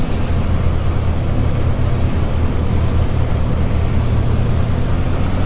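An A2A Comanche 250 piston engine in a flight simulator game, run up to 1800 RPM on the ground, a steady loud droning roar that holds level throughout with no break.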